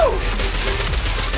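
Rapid video game gunfire bursts in Zenless Zone Zero, a dense close fusillade of shots with a falling whizz at the start, loud and continuous for a moment.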